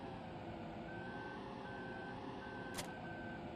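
A vehicle in Farming Simulator 2015 backs up with evenly spaced, steady electronic reversing beeps over a constant engine drone, with one brief sharp burst near the end and no talking.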